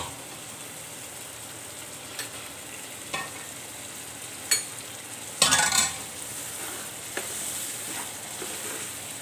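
Whole masoor dal going into a hot pot, a soft steady sizzle punctuated by a few sharp scraping stirs and one louder burst of crackling as it lands.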